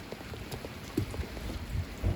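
Light rain patters steadily on the deck of a 2012 Sunseeker Manhattan 73 motor yacht, with a soft, diffuse hiss and scattered droplet taps, faint and without speech.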